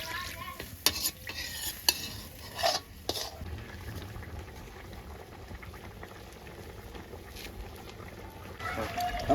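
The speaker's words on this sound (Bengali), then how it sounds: "মাছটাকে জল দিয়ে ভালো করে সবজিটা সিদ্ধ করে নিচ্ছি।" Vegetables (potato, eggplant, radish) and dried fish simmering in water in a pot, with a few sharp utensil clinks and scrapes early on, then a low steady bubbling bed of sound, close by.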